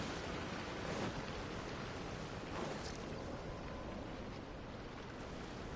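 A waterfall in the video game Genshin Impact gives a continuous broadband rush of falling water, steady and fairly loud throughout, with no speech.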